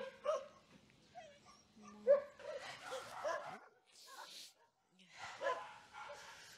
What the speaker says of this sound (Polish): Taki ma ostry szczek. I tu jeszcze psiaki.